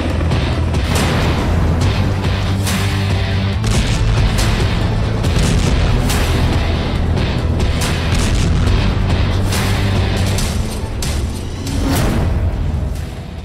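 Artillery fire in a war zone, with dense repeated booms and blasts over a constant roar. Loud and continuous throughout.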